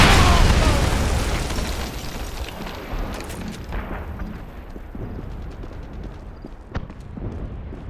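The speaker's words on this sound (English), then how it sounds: "That man is a spy! Go, go, go! Grenade!" Grenade explosion in the 2009 Wolfenstein video game, a loud blast at the start that decays into a long rumbling tail with scattered pops and crackles of battle, faint voices underneath.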